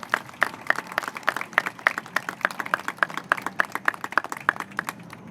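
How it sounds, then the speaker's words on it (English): An audience claps steadily at a New York City mayoral announcement on municipal ID and cultural access, many hands forming a close, even patter with sharp individual claps standing out, sustained throughout. "They deserve a big round of applause"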